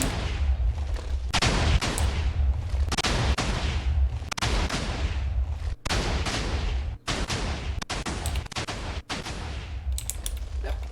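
Repeated loud booming blasts fire in a rapid, irregular series, each a sharp explosive burst with a rumbling tail, like cannon fire in a game.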